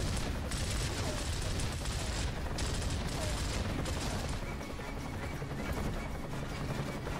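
Dense, continuous gunfire from a weapon in the video game Gears of War crackles loudly and nearly without pause, a noisy wash of rapid shots with brief gaps.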